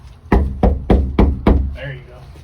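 Five loud, heavy knocks on a front door at a steady pace, close and booming, followed by a brief bit of voice at the end.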